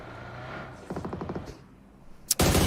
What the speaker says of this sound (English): He's already unloading a couple of shots initially.